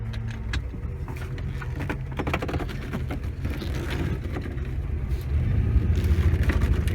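Engine of a 1988 Volga GAZ-24-10 running with a low rumble, rising slightly as the car reverses, along with clunks and rattles from the vehicle.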